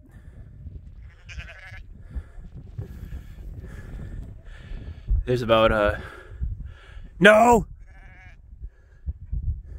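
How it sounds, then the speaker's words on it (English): Sheep on a snowy farm bleating, two loud wavering bleats close by with fainter calls earlier, over low wind noise and brief human talk. "Yeah, sheep."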